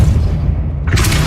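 Depulso force spell cast in the Hogwarts Legacy video game, a short whooshing burst that flares in bright hiss over a steady low rumble, loud and close with no talk.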